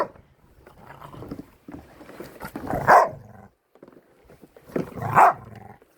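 An Irish blue Staffordshire bull terrier barking outdoors at a lawn mower that is not running: two loud, close barks a couple of seconds apart, with quieter growls and scuffling between them.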